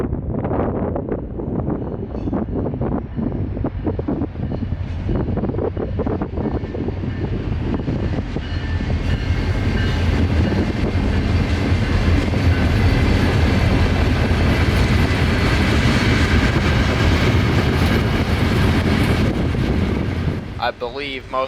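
A CSX local freight train with rock hoppers and covered hoppers rolls past trackside in Central Florida, building from rattling clatter into a loud, sustained rumbling roar of wheels and cars, with wind buffeting the microphone.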